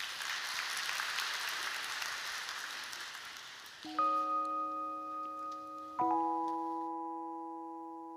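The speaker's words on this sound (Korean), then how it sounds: "박수로 청해 듣겠습니다." A church youth congregation at Onnuri Church applauds in a broad, steady wash that gradually fades, then two sustained piano chords ring out alone as a song about mothers begins.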